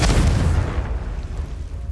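A Confringo blasting spell in Hogwarts Legacy goes off as one loud, booming explosion at the start, then rumbles and fades over about two seconds.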